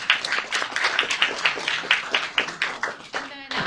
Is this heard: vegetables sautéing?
no